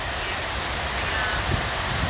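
Heavy rain pours steadily, a dense, even roar of falling water with no pauses or voices.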